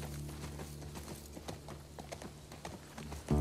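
Horse hooves clop in The Last of Us Part 2, a quick, regular trotting beat of sharp knocks over a low background hum, fairly quiet and close, ending in a sudden louder thump.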